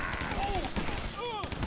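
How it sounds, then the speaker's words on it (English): Tommy gun firing in the video game Guns, Gore & Cannoli 2, rapid bursts of gunfire with scattered impacts, while a voice talks over the shooting. "I've got a Tommy gun, Ethan. Tommy gun."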